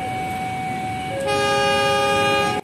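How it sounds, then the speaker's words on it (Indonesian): A Bandung Raya local train's horn sounds at Cimindi station just before departure: a loud, sustained two-tone blast lasting a few seconds, shifting pitch partway through, with no talking. "klaksonnya sudah mulai menyala"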